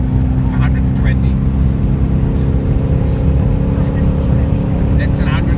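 A Land Rover Discovery 3 floored between turns in fifth gear, its engine pulling hard and heavy with a loud, steady droning roar and rumble, while people talk over it.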